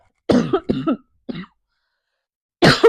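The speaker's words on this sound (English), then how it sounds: "the setting spray makes me cough like nobody's business" A burst of harsh coughs, three quick ones then a single one, followed after a pause by another loud cough, close and otherwise silent.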